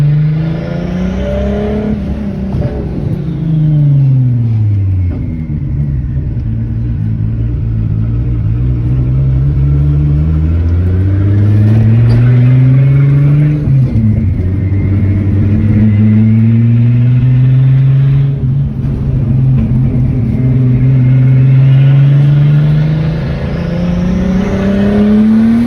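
A loud turbocharged VR6 engine in a Mk3 pulls hard on a highway, the revs climbing and falling through several gear changes over a continuous close drone.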